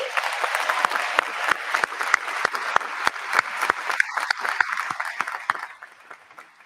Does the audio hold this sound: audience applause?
yes